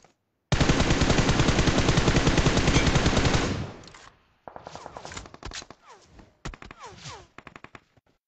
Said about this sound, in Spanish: Ay, me están disparando.